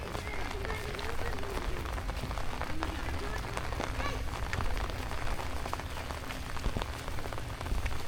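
Dense, constant rain in Gazipur, Bangladesh, pattering on surfaces nearby, a loud continuous hiss with scattered drip sounds throughout.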